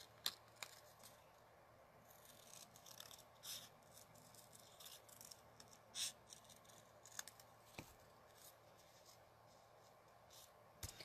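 Scissors cutting around paper for a handmade fall greeting card, soft irregular snips and paper rustling close by at a quiet level, with brief sharper clicks scattered throughout.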